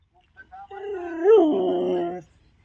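A dog howls up close, its long wavering cry rising then sliding down into a whimper before stopping; a few short yips come first.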